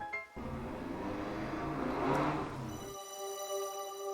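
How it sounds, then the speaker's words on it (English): A motorcycle engine swells faintly in the background while playing The Legend of Zelda: Breath of the Wild, growing louder for a couple of seconds and then fading away, with no talking. "I think it was like a motorcycle or something."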